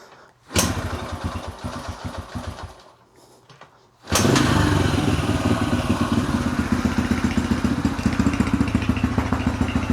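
A Yamaha TTR 125 dirt bike with a freshly rebuilt carburetor starts up, sputters and dies, then restarts and settles into a loud, close, steady idle with a fast even putter.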